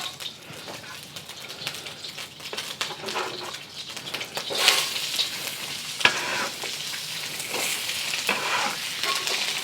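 Zucchini and onions stir-fry in a pan over medium heat, in oil and rendered beef fat, with a steady broadband sizzle broken by repeated scraping stirs that build loudest midway. No one speaks.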